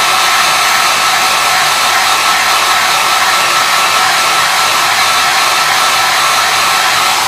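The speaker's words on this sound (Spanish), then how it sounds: "Cogéis el secador y lo secáis todo" A hair dryer blows continuously and loud at close range, drying diluted paint on a Bandai Y-Wing plastic model, a steady broadband rush with no pauses or speech.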